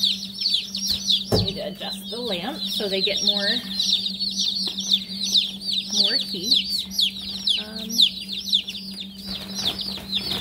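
A box of newly arrived meat bird chicks cheeps constantly in high, overlapping peeps close by, with a steady low hum beneath and a person talking over them.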